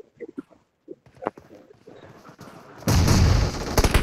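A grenade explodes in the mobile battle royale game BGMI. A few sharp gunshot-like pops come first, then a sudden, loud, roaring blast that holds for about a second with more bangs trailing after.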